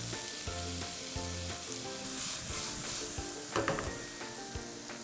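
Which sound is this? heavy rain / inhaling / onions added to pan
onions added to pan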